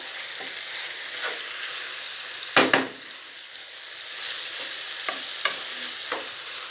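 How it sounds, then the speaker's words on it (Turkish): Minced meat fries in a pan with tomato paste and spices, giving a steady close sizzle throughout. A few sharp clacks of a spoon stirring against the pan are heard, most clearly near the middle. "Şimdi tekrardan güzelce bir 1-2 dakika daha böyle salçasıyla baharatlarıyla kavuracağım arkadaşlar"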